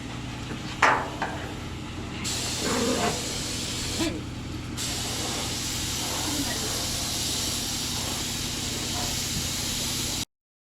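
Aerosol rust-prevention coating hisses steadily as it is sprayed under an off-road trailer, a continuous broadband spray lasting several seconds with short pauses, close and fairly loud over low background rumble.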